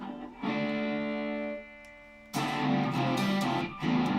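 An electric guitar plays on its bridge pickup with a new tone control set to 5, giving a thinned-out sound. A sustained chord fades to near silence, then a second loud strum rings out with bright picked notes.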